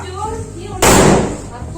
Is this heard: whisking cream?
no